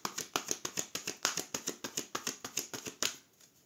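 A deck of tarot cards being shuffled and cut for a reading: a quick run of crisp, evenly spaced card slaps and riffles, close and clear, ending in one sharper snap with no talk.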